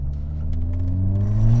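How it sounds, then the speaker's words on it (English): A 2010 Skoda Octavia VRS tuned to about 300 bhp revs hard toward its roughly 6,500 rpm redline, its engine note rising steadily and growing louder through the whole stretch, with no talking. "I'm redlining it"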